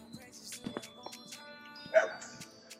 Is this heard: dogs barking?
yes